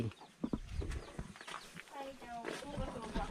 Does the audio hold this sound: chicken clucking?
yes